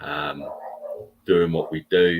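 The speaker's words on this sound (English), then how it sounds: "You can hear the dog barking in the background" A dog barks and yelps in the background in a few short bursts, mixed under someone talking close to the microphone.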